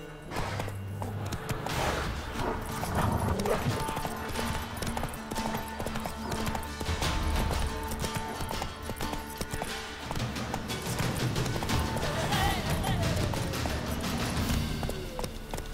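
Roach, a horse in The Witcher 3, gallops in a steady fast clip-clop for the whole stretch, hooves thudding over game music and ambience, with a faint snort or whinny now and then.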